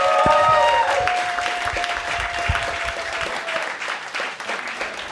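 Audience applause for a comedian at a live stand-up comedy show: a steady, dense clapping crowd fills the whole stretch, loud and close, with a brief tonal sting at the start that fades within the first few seconds.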